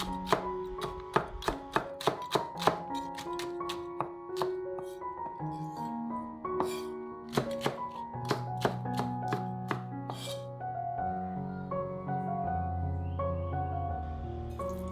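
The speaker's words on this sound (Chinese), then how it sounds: "像这样改刀之后啊，再切丝就很方便。" A knife cuts green peppers into strips on a board in a quick run of sharp chopping taps that later become sparser, set under steady background music.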